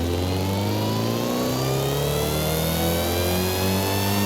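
A supercharged car engine in the Forza Horizon 5 racing game revs and pulls hard, its rising whine and rumble climbing steadily in pitch, loud and close with no speech.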